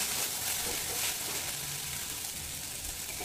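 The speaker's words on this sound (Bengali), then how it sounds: "তাই সবজিটাকে খুব সুন্দর করে ভেজে নেব" Vegetables fry in a pan with salt, turmeric and chilli powder for an oats dish, a continuous even hiss of sizzling with faint stirring, close and fairly quiet.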